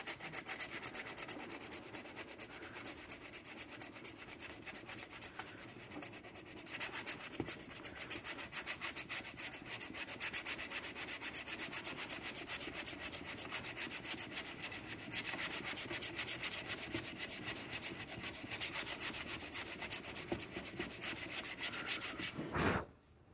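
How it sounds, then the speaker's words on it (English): A car fender hand-sanded with a sanding block during bodywork, a continuous close rasping rub in steady back-and-forth strokes that ends abruptly, no voices. "It's good to sand a good far edge around it."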